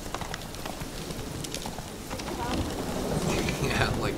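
Roach, the horse in The Witcher 3: Wild Hunt, clip-clops along at a steady walking rhythm. The hoofbeats are fairly close over a soft rain-like hiss that swells toward the end.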